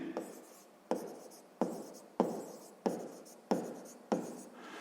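Pen or chalk writing out a sixth-grade math solution, heard as seven rhythmic scratching strokes, each starting sharply and trailing off, evenly spaced and close with no voices.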